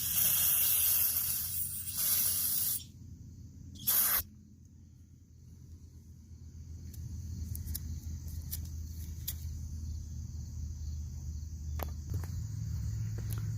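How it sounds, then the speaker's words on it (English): Carburetor cleaner sprays from an aerosol can into a power washer carburetor in two short, loud hissing bursts, followed by quiet with faint clicks and a low background hum. "Take some carburetor spray in here and break all that stuff up."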